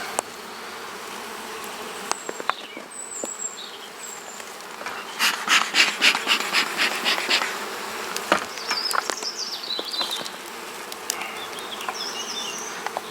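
Honey bees buzz at an open hive during the honey harvest while bee escapes are being fitted. The dense, close drone holds throughout, with passing higher whines from bees flying near and a brief louder swell midway.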